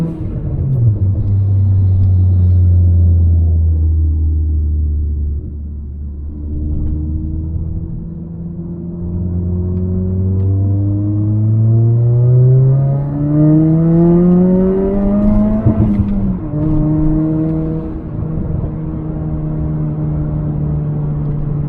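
A turbocharged Toyota Corolla accelerates through the gears from inside the cabin, engine droning low and loud with rising revs, a dip at each shift, then climbing again.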